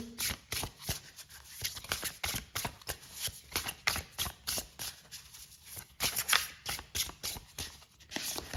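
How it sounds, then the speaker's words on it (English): A deck of oracle cards is shuffled close up in a quiet room, giving a steady run of soft, rapid riffling and papery flutters that rise and fall in rhythm without any talk. "Let me just pull some oracle cards for you, oracle guidance for you."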